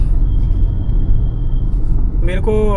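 A car engine droning steadily while a beginner drives in second gear, a low rumble under someone talking, with a tonal beep or horn near the end.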